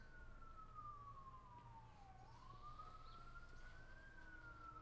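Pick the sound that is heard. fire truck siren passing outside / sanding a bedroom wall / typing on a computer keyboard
fire truck siren passing outside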